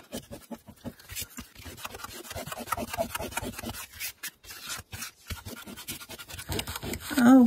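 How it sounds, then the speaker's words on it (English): Fingers rub dried glue off a cardboard tissue box, making close, dry scratchy strokes in a quick irregular rhythm, with brief pauses and a faint voice near the end. "hey, I can rub the glue off."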